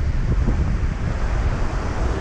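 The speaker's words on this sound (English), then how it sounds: "The wind has picked up." Strong wind gusts outdoors by a lake during a hot summer day of fly fishing in a Minnesota park, a loud, steady rushing roar buffeting the microphone with no talking.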